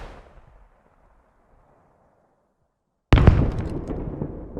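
An RPG-7 rocket from the video game Squad strikes a BTR armored vehicle: after a fading tail of the launch and a near-silent gap, a sudden loud explosive impact bursts out and rumbles away.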